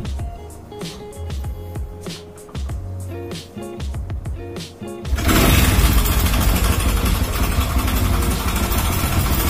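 A motorcycle engine runs during a test in the first half, then a loud, dense broadband roar takes over for the rest, with a steady, close-up sound.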